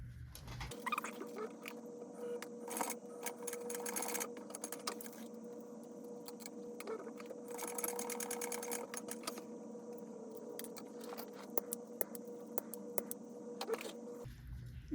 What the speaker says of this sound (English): we're gonna just do 2 lines of stitching down right here.